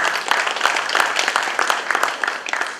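A dense, loud round of applause from an audience at a Romanian awards gala, many hands clapping steadily and evenly from start to finish.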